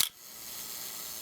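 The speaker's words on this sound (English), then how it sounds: "when it reaches the end of 10 seconds it will fire the shutter" A Nikon FE2 35mm film camera fires its shutter at the end of the self-timer countdown: one crisp, close mechanical click at the very start, followed by quiet room hiss.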